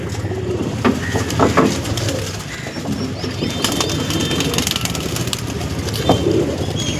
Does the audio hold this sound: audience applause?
no